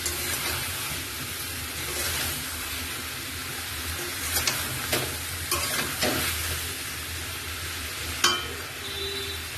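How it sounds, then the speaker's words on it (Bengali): Potatoes for aloo dum being stir-fried in a pan with Maggi masala: a steady, close sizzle runs throughout, with occasional scrapes and clinks of the spatula against the pan and no talking. "ম্যাগি মশলা দিয়ে এখন কষাবো"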